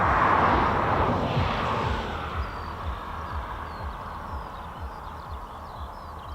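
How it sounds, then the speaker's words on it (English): F-35B stealth fighter jets of 809 Naval Air Squadron and RAF 617 and 207 Squadrons starting up at an air station, a loud, steady broadband jet roar with a faint rising whine, heard from a distance without talk. "So we got F-35 startups"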